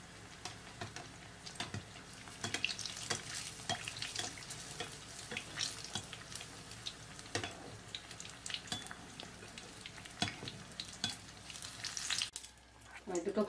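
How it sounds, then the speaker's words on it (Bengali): Batter-dipped eggplant slices (beguni) frying in hot oil, a steady close crackling sizzle with sharp spattering pops throughout, briefly dropping near the end. "এবার আমি বেগুনটা ব্যাটারের মধ্যে ডুবিয়ে বেগুনটা ভেজে নেব।"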